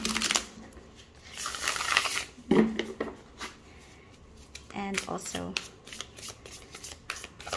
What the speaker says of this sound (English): overhand shuffling is easy